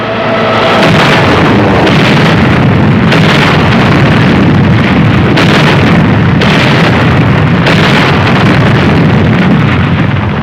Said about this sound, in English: A gasoline dump is hit.